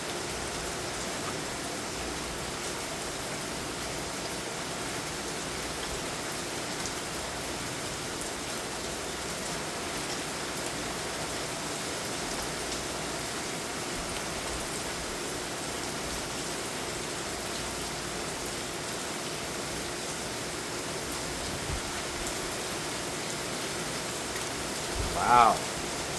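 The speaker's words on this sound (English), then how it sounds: "That's a downpour." Heavy rain downpour pouring onto trees at night in Chandler, Arizona, a dense steady hiss throughout with a faint bump near the end, no talk.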